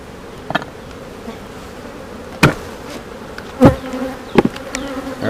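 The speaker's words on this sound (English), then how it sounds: "There's a decent amount of bees in the box here that I'm gonna have to shake out." Honey bees buzz steadily inside a hive box, a continuous close drone with a few sharp knocks and thumps from handling the box scattered through it.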